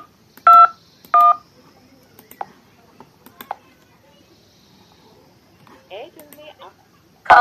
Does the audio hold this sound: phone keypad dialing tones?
yes